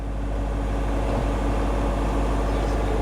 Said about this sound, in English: Generator is this noise that you can hear.